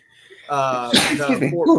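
A person sneezes once, up close and loud, with a short vocal rise into the burst of breath.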